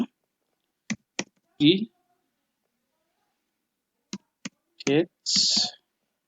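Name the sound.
typing on a computer keyboard and mouse clicking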